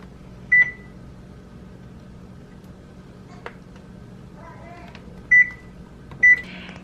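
Three short high beeps from an oven's control panel as it is set to preheat to 300 degrees, sharp and clear against a quiet kitchen hum, with a few soft clicks between them.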